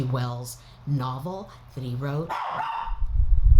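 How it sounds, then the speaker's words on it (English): Someone talks while a dog barks a few times nearby, reacting to children outside by a pool, the sharp barks breaking in between his words. "He's barking because the kids are outside by the pool"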